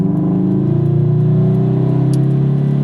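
A supercharged Subaru BRZ pulls hard in first gear from about 20 mph, a loud close engine drone whose pitch climbs steadily over three seconds, with no talk.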